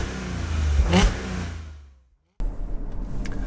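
A supercharged 2013/2014 Audi SQ5 TFSI engine accelerating, its rising whine and rumble building and then fading away, followed after a brief gap by a steady, close road and engine drone.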